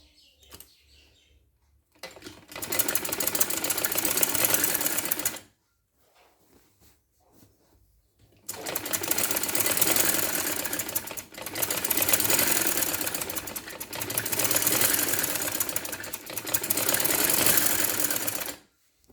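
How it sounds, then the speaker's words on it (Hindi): A sewing machine stitches the neckline of a women's shirt in several loud, steady runs of rapid needle clatter, broken by short quiet pauses between bursts. "तो यहाँ से हमने सिलाई कर देनी है"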